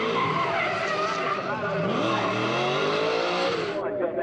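A drift car skids through a switchback with its tyres squealing loudly and continuously over a roaring engine, with a commentator talking over the noise.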